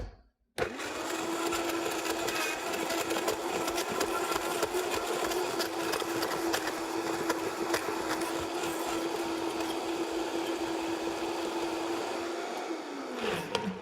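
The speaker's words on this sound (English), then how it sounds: "then you simply blend in the Vitamix" A Vitamix blender switches on and whirs steadily for about thirteen seconds while blending seed pancake batter, a loud motor drone that cuts off abruptly at the end.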